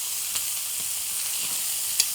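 Pork ribs sear in a hot pan as they are turned over, a continuous bright sizzle with a couple of brief louder crackles and scrapes, no voices.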